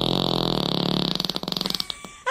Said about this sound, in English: That's his fart. That's a good one. That fart slaps